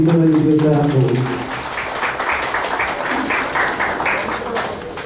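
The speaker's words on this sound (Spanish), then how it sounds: "Los aplausos, por favor." Audience applause fills a municipal ceremony honoring public cleaning workers, steady clapping that runs throughout right after a spoken introduction.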